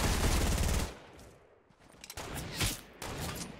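Rapid Fortnite gunfire rattles close and loud in a dense opening burst, then a few sharper scattered shots follow after a brief lull.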